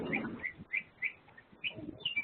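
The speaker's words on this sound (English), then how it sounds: "I'm hearing birds chirping in the background" Small birds chirp faintly in the background with several short, bright calls spaced unevenly, heard behind a quiet room during an online meeting.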